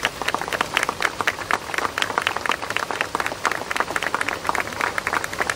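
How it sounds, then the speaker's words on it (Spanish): An audience applauds at a national dance day tribute ceremony, a sustained round of many hands clapping in a brisk, even patter, moderately loud and continuing throughout. "Pido un aplauso para Elena Pérez."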